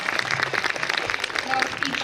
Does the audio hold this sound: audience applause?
yes